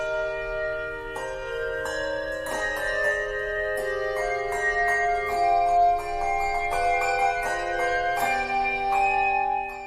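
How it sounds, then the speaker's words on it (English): A handbell ensemble plays an ornamented Bach chorale while hand chimes double the melody, with bright overlapping bell strikes ringing and sustaining steadily from start to finish, no voices present. "I double the chorale melody on hand chimes. That's there at the same time as the bells are playing the ornamental version."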